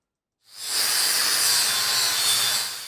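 A Norton Disco Flap EasyTrim trimmable flap disc on an angle grinder bites into metal after a brief silence, producing a loud, steady, hissing grind that holds without pause.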